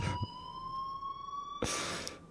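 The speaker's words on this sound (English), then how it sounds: "please turn off that alarm since that's your job" An alarm rings inside the video game Life is Strange, a steady high electronic tone sustained throughout, with short bursts of noise at the start and near the end.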